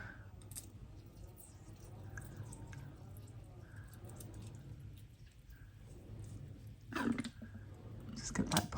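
Water trickles and drips onto potted houseplants indoors, soft intermittent splashes over a low background hum, with a brief louder splash near the end.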